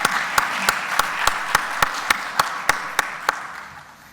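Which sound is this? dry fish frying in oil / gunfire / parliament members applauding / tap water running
parliament members applauding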